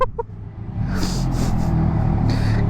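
A Kawasaki Ninja H2 motorcycle, just repaired, rumbles inside a car wash, a loud steady idle with deep low throb echoing off the walls, a few sharp clicks at the start.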